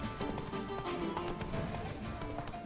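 Hoofbeats of Roach, Geralt's horse in The Witcher 3: Wild Hunt (Blood and Wine), clip-clopping at a run through a busy game soundscape, steady and fairly close, with a brief snort or whinny mixed in.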